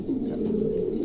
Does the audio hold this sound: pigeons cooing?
yes